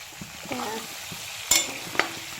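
Chicken frying in oil over a medium flame as chilies, ginger and garlic are added, giving a steady sizzle with sharp clinks of a spatula stirring the pan, two louder scrapes near the end.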